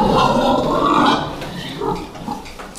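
Large breeding sows on a farm grunt in several rough, close grunts, loudest early and then fading to quieter snorts toward the end.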